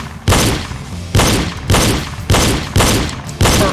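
Loud, evenly spaced pistol shots crack out on a reload pistol drill, about six heavy reports roughly half a second apart, each with a short reverberant tail and no talking.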